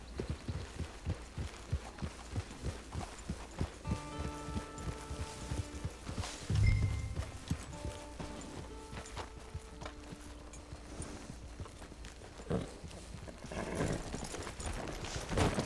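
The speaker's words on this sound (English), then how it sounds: "Get your horse." Horse hooves clip-clop in a steady walking rhythm in the Red Dead Online video game, close and fairly soft, with a tonal game melody playing underneath.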